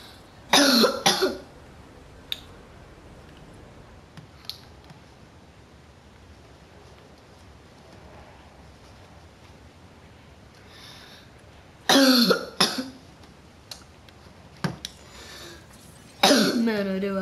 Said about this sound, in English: I do have a cough.